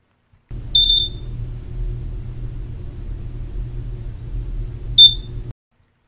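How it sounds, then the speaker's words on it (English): A Hubbell polymer insulator tester entering calibration mode gives two short, high electronic beeps several seconds apart, with a steady low hum between them. "As it enters calibration mode, all the LEDs will flash once and a 3-beep sequence will indicate completion."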